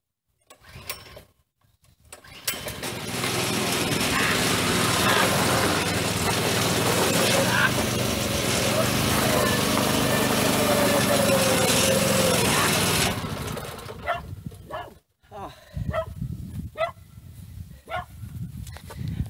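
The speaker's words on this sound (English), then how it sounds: "I believe the idle's a little bit too high." A small engine on a Blue Devil idles high and steady for about ten seconds, a loud continuous whir that then drops away into quieter clatter and movement sounds.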